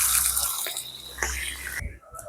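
Water poured into a cooking pot to boil noodles in a home kitchen, a steady splashing and dripping stream that runs close and fairly loud, then cuts off near the end.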